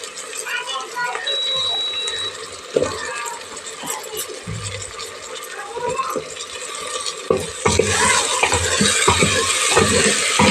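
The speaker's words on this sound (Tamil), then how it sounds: "இப்போ நம்ம வந்து தக்காளி போட்டுக்கலாம்." Tomatoes frying with ginger garlic paste in a cooker for tomato rice: a sizzle and intermittent stirring scrapes heard under a person talking, growing louder and denser toward the end.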